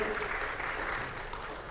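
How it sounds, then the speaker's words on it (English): Applause from the audience at a Tanzanian trade and logistics business forum, a dense, steady wash of clapping honoring the leaders that holds evenly for a couple of seconds. "Please, a big round of applause to our leaders."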